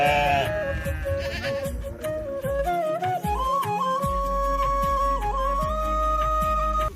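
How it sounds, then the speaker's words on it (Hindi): Sheep on a mountain trek in the Himalayan foothills bleat repeatedly, several animals calling close by in overlapping, wavering cries throughout, with no talking. "जो भेड़ कल यहाँ पे रुकी हुई थी वो भी देखो अब उजाला में चरने के लिए जाने लग गई है"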